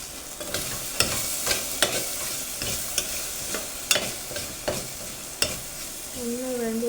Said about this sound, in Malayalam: ചട്ടി ഞാൻ എണ്ണ ഒഴിച്ചിട്ട് അങ്ങനെ നന്നായി ഒന്ന് വഴറ്റിയെടുക്കുക